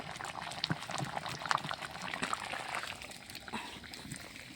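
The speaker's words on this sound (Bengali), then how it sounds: "রান্নাটা রেডি হয়ে গেছে আমি এখন ঢেলে নেব" Cooked fish curry poured out of a pot, with bubbling liquid and soft splashing and sloshing sounds in a steady stream, at moderate level up close.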